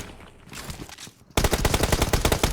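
Rapid automatic gunfire from a video game battle royale fight, loud sustained bursts erupting after a quieter stretch of softer game sounds and distant shots.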